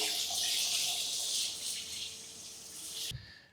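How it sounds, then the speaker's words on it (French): Shower head sprays water for rinsing in a morning routine, a steady loud hiss of running water that cuts off abruptly near the end. "J'ouvre l'eau et je me rince avec le pommeau de douche"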